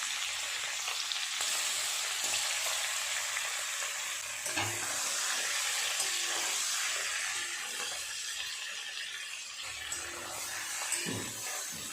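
Prawns frying in hot oil, a steady, loud, continuous sizzle and crackle with occasional stirring sounds, close up and with no talking.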